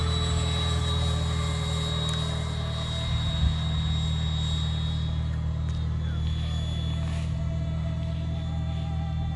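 A Freewing F-22 Raptor 90mm EDF RC jet on 6S power whines steadily overhead on its maiden flight, a continuous high ducted-fan tone over a low constant drone, fairly distant and unbroken throughout.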